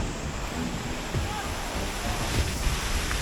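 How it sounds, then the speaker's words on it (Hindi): Steady rushing water of a mountain stream flowing from Sheshnag near Pahalgam, a broad continuous roar like a fast stream, with some wind noise buffeting the microphone. "ये शीशनाग से ही पानी आ रहा है। फ्लो देखो आप पानी का कितना।"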